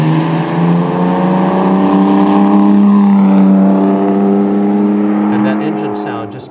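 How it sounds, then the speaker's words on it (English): A Jaguar C-Type race car built for Mulsanne revs hard, its exhaust note rising and swelling through the rev range in one long, loud, close pull that eases off near the end, with a voice speaking over it. "The exhaust note is one that makes you want to just rev it and rev it and rev"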